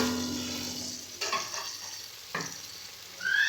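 Tomato paste is stirred with spices in a hot pan, a steady sizzle broken by two distinct spoon scrapes, with the frying hiss rising again at the end.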